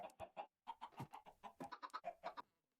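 Chickens in a hardcore survival video game cluck in quick bursts, a dense run of short, close, moderately loud clucks with a brief pause, then fading out.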